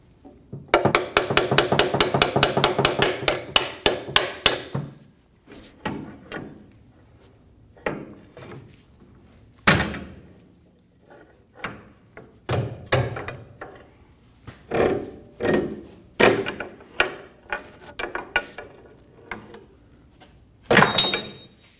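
Nut being removed from the rear upper control arm of a Ram 2500 truck, with a dense burst of rapid ratcheting clicks followed by scattered knocks and metallic handling sounds, close and loud.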